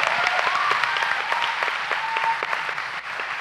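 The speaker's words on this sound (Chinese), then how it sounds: "我们给神最大的拍掌。" A church congregation claps together in steady, dense applause that holds at an even level throughout, with faint sustained tones running beneath the clapping.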